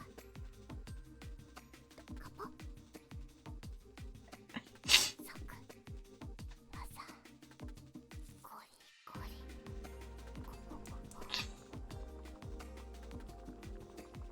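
One short, sharp sneeze bursts out partway through, close and distinct above a steady bed of quiet background music.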